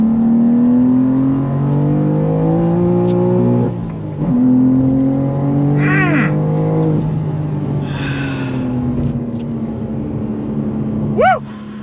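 A 2024 BMW M2 with a six-speed manual accelerates hard from inside the cabin, the engine note climbing through rising revs with gear changes, then exhaust pops and crackles on lift-off, loud and close.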